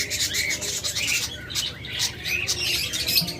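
Big albino red-eye pet birds let out harsh chirps and squawks in quick bursts, close and loud, over steady rasping, rustling noise, with no talking.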